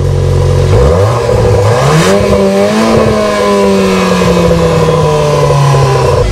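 A Volkswagen Golf R Variant MK8 in comfort mode idles and then revs up, its engine and exhaust drone rising in a smooth climbing tone and holding a steady, loud hum, with no talking.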